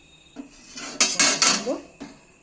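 A knife cuts a dal-stuffed wheat-flour flatbread on a plate, making a few scraping, clinking strokes against the plate, grouped in the middle with quieter taps before and after.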